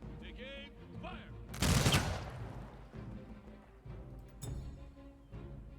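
Gunfire and battle noise in the strategy game Humankind: one loud burst of shots stands out, with scattered quieter impacts and background game sounds around it.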